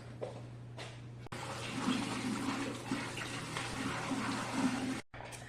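Running tap water pours steadily over lettuce and salad ingredients being washed, a constant rushing stream with faint handling sounds that stops abruptly near the end.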